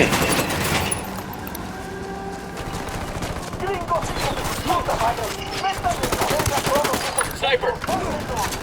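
Gunfire in the video game Ghost Recon Wildlands, a town mission in San Mateo: sustained bursts of automatic shots and scattered cracks, moderately loud, with raised voices in the mix.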